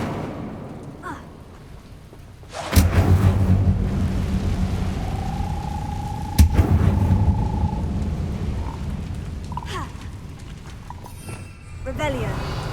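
Incendio fire spell cast in Hogwarts Legacy, a sudden loud whooshing burst that roars on as a dense rumbling blaze, with a second sharp flare partway through and a bright tonal ring fading out.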